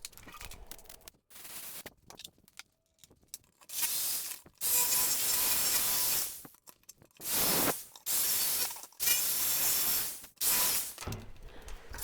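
Power tool cutting a small wooden tree shape, a drill starting a pilot hole followed by a jigsaw, heard as loud sustained bursts of buzzing cutting separated by short pauses.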